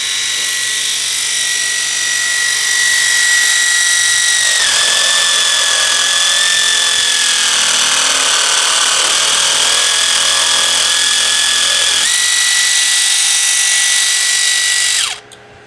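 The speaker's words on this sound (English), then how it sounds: "I'm going to cut a piece of a dowel just so you can see it in action." A MicroLux sword saw, a small reciprocating power saw, whines steadily as it cuts through a wooden dowel, its tone dropping under load midway before rising again and cutting off at the end.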